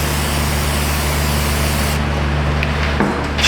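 A spray can hisses steadily into the inside of a Toyota Prius brake rotor area, loud and close, then cuts off, leaving a brief lower rumble and a light knock.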